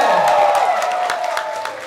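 A concert audience at a show claps and cheers in a dense, close burst of applause with scattered whoops, slowly fading over a couple of seconds.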